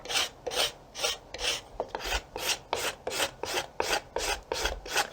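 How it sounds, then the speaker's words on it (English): A hand scraper drawn repeatedly along a wooden self bow stave, stripping off the bark: steady rhythmic rasping strokes, about two per second, close and moderately loud, with no talking. "I'm going to keep working this down the side with the scraper"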